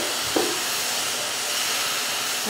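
A little water poured into a hot pan of golden fried vermicelli with condensed milk, a steady loud hissing steam sound throughout with a brief sharper splash near the start.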